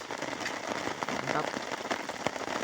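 Rain falls steadily on a mountain trail on Gunung Argopuro, a dense, continuous patter of drops close by with a few sharper splashes, lasting the whole few seconds.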